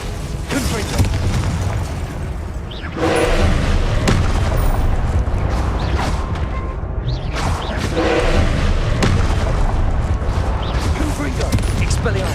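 Explosive spell blasts in the Hogwarts Legacy video game, repeated loud booms and bursts over continuous game noise, with a voice shouting spell names over them.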